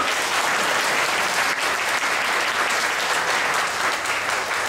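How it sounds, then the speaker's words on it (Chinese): An audience at a church musical testimony concert by a gospel choir claps in sustained, even applause that continues for several seconds without voices. "给我们一点掌声鼓励，好不好？"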